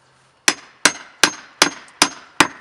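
Six sharp hammer strikes on a nail through clapboard siding into sheathing, evenly spaced about every third of a second, each a crisp ringing knock with a short decay.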